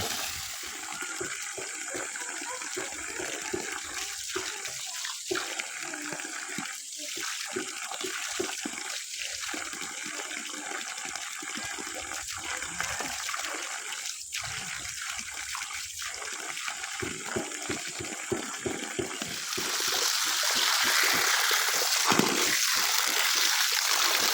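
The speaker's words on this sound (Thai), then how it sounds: "เก็บสิผักเอามาล้างอยู่นี่แหละ" Steady running water pours and splashes as vegetables are rinsed under it, a continuous gushing flow with small splashy variations that grows louder near the end, with no voices.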